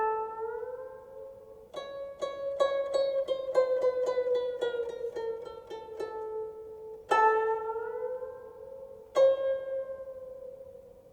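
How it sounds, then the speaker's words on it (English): Solo guzheng plucked string notes bent upward in pitch, a slow series of single plucks with gliding, sliding tones and ringing decay, close and clear with no talk. "The bending notes sounds like this."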